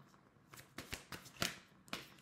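Tarot cards shuffled and dealt on a table, a series of quick crisp riffles and slaps in uneven bursts, close and fairly quiet, with no talking.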